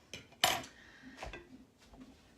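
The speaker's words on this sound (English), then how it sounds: "You wanna make sure to poke your sausages so that they don't burst in your oven" A metal fork pokes and clinks against sausages on a metal sheet pan, with a sharp tap near the start and a softer one about a second later, followed by faint scraping.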